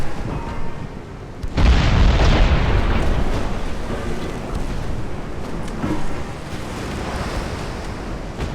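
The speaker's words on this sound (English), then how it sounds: "Explosion." A loud, deep boom of a ship exploding during a naval battle in a video game, followed by a long rumbling roar that fades slowly.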